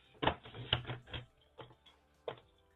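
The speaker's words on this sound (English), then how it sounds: "Actually, I'm going to cut this off." A paper trimmer slices scrapbook paper in a few sharp clicks and short cutting strokes, close and crisp against a quiet room.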